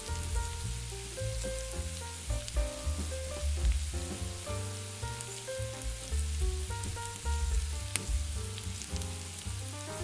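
Onions seasoned with kosher salt and black pepper sizzle steadily in a pan while being stirred toward light caramelization, under prominent background music.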